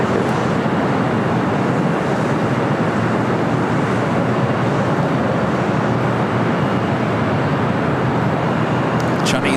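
Boeing 737-900ER jet at LAX on departure, broadband steady roar of engines filling the scene, loud and continuous with no clear change in pitch, plus faint radio chatter.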